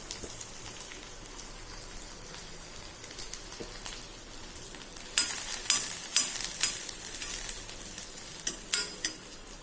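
Onions and curry leaves stir-fried in a pan for roadside-style masala puri, giving a steady soft sizzle with sharper scraping stirs and crackles growing louder in the second half; no talking.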